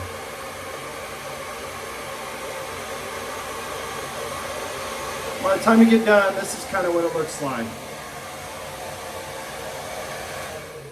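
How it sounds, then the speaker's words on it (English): Steady whooshing blow dryer runs throughout as it straightens a beard, with someone talking briefly over it partway through. "You're done with the blow dryer after this"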